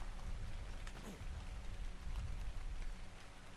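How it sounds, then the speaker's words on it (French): Steady rain falling in a video game, a constant soft hiss of drops with faint patter throughout, quiet and even, with no voices. "heureusement qu'il pleut comme ça, mon hydratation ne baisse jamais"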